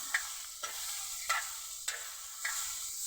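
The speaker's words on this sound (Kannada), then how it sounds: "ಎಣ್ಣೆಯಾಗಿ ಹುರಿದಂದ್ರೆ ಹ್ಯಾಂಗೆ ಆಗ್ತಾವೆ ಎಲ್ಲ ಹೊಡಿತಾವೆ ನೋಡಿ ಕಾಯಿನ ನೋಡಿ ಈ ಥರನ ಹೊಡಿತಾವೆ" Green pigeon pea pods roasting in hot oil, a soft steady sizzle broken by about five sharp pops or stirring scrapes spaced roughly half a second apart.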